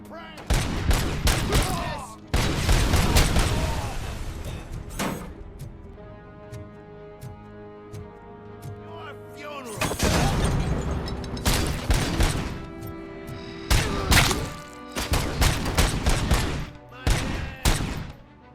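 Bursts of gunfire in the video game RoboCop: Rogue City, loud rapid volleys and single cracks coming in clusters with pauses between, over a droning game soundtrack.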